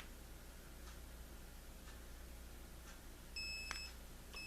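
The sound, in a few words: three beeps of Polaroid Cube+ action camera powering on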